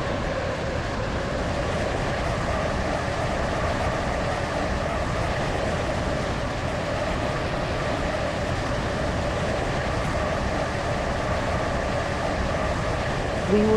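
A train on the Stepford County Railway video game runs between stations, giving a steady, continuous rumble and hum of wheels and motors that holds evenly throughout with no talking.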